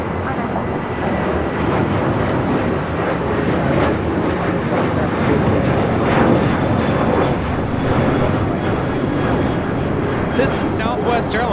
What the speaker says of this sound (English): This is Southwest Airlines 479 taking off to Tucson on a 737-700.